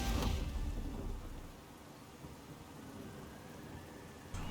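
Rain falling steadily with a rumble of thunder during a wet street race in the Forza Horizon 4 racing game, a broad hiss that swells at the start and returns briefly at the end.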